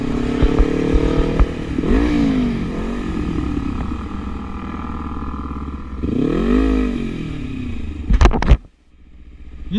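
A motorcycle rides on a street, its engine droning steadily with rising and falling revs and wind rush, ending in a sharp clatter and sudden drop in noise near the end.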